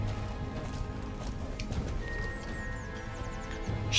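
Horse hooves in the Star Stable online riding game, with the horse moving slowly and sluggishly: a steady run of soft clip-clop steps under constant game ambience, with faint bird chirps above.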